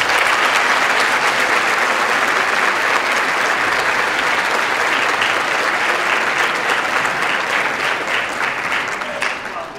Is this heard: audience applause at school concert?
yes